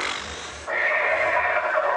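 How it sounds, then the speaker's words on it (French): Spirited horse neighing loudly in a burst of whinnying that rises and holds steady for about a second and a half, close and alone with no talk over it. "Qu'est-ce que c'est que ce cheval fougueux?"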